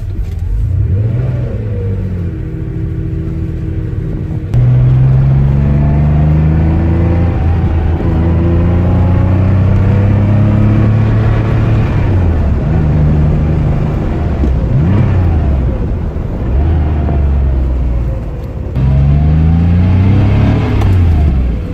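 Porsche 911 Carrera Targa with a flat-six engine, revving loudly while driving, rising and falling through several gear changes in a steady close-up engine roar with no talk.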